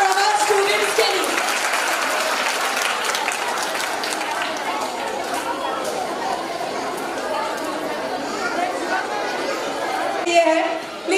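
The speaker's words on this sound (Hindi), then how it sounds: "तो जोरदार क्लैप हमारे पेरेंट्स और हमारे स्टूडेंट्स के लिए।" Audience at a school annual day and medal distribution applauding parents and students, dense sustained clapping mixed with crowd chatter throughout, swelling briefly near the end.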